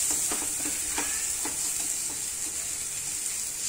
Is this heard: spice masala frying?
yes